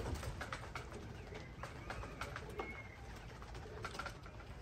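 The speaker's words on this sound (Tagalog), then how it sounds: "Mga ibon." Pigeons coo softly and repeatedly over a background of fluttering and scattered chirps, fairly close, with no talking.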